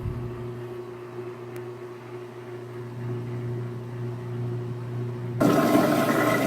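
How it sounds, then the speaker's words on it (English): A CatGenie self-cleaning litter box hums mechanically as it churns and washes granules, then a sudden loud rush of water takes over near the end as it drains. "it just circles around and mixes the granules and washes them"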